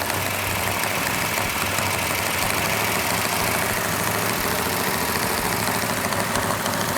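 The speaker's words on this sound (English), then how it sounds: "we have the engine running exactly the way it's supposed to" A new NASCAR engine runs steadily during cam break-in with the RPM held up, giving a loud, continuous mechanical roar with a noisy valve train and no talking.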